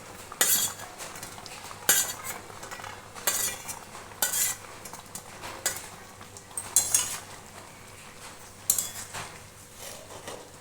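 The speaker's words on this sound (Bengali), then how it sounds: "আর এতে এই ভেজে রাখা বড়াগুলো দিয়ে দেবো।" Fried fritters go into a simmering ridge gourd curry, with a spoon clinking and scraping against the pot in several irregular bursts over a low cooking hum.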